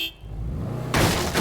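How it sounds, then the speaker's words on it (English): A car horn in the video game State of Decay 2 blares briefly and loudly, with vehicle engine noise and a second honk cutting in near the end. "Some tactical honking."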